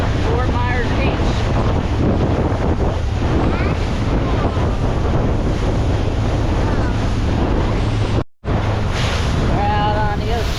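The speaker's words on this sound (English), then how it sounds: "We're out on the ocean past Fort Myers Beach." Loud, constant wind buffeting and waves rushing around a small boat out on the Gulf off Fort Myers Beach, Florida, with distant voices faintly under the roar and one brief dropout.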